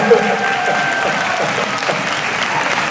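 Students at a Busan high school dance contest applaud to vote for contestant one, a steady crowd clapping sustained for about three seconds, with some voices mixed in.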